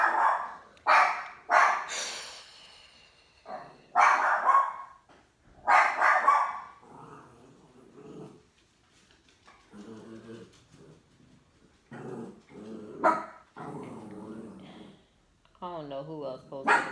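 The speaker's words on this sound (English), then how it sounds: "got a dog barking in the background" A dog barks repeatedly in bursts of sharp, fairly loud barks, with gaps between them, while a person talks in stretches.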